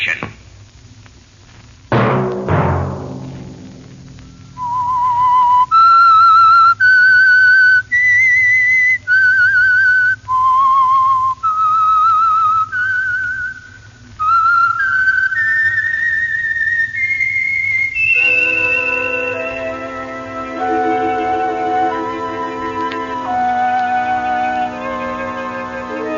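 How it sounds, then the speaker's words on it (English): A clear whistled melody from a 1940s-era radio program jingle plays as a sequence of separate notes, then a rising run, loud and close, following a brief sharp knock. "Let that whistle be your signal"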